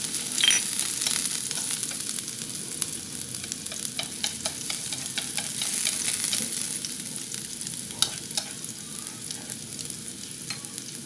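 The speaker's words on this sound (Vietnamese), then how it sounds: "Rồi bây giờ dầu của mình đã nóng rồi nè các bạn, mình sẽ cho vào đây gốc hành nha." Finely chopped scallion roots frying in hot oil, a steady, bright crackling sizzle with scattered pops, continuous and fairly close throughout.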